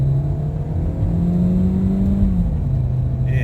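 A 2003 Hyundai Elantra accelerates from a standstill toward 40 mph with a little tire spin, its engine droning and rising steadily in pitch, then easing back, loud and close throughout.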